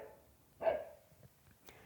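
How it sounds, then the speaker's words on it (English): A border collie barks once, played through a JBL Link Bar soundbar. The single bark is fairly quiet and short, followed by a few faint small sounds. "This is a border collie."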